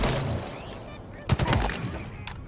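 Shock rifle and grenade fire in Halo Infinite, a rapid volley of sharp energy shots and bursts with a louder blast midway, amid busy game noise.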